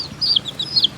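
Pet chicken clucking and chirping in short, bright bursts, several quick calls in a row heard up close with little else around.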